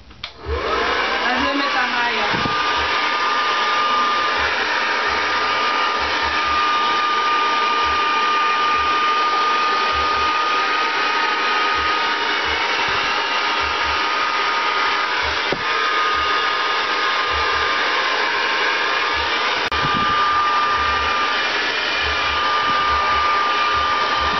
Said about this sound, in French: ensuite je démêle le doigt encore et je fais un blow out tout simplement